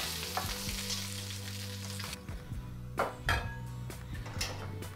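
Pork tails frying in a pan, a dense close sizzle that cuts off partway, followed by a few scraping clatters and knocks of the pan and utensils.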